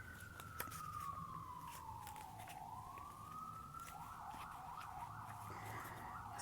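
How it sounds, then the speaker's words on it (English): A wailing siren sweeps down and up in pitch, then switches to a fast warbling yelp, heard from a distance over steady traffic rumble. "Pardon the sirens"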